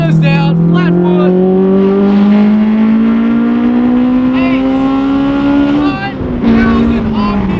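A 20-year-old Honda S2000 engine revs hard toward 8,000–9,000 RPM at full throttle with the windows down, its loud climbing howl held for several seconds before a brief shift dip, then pulling again.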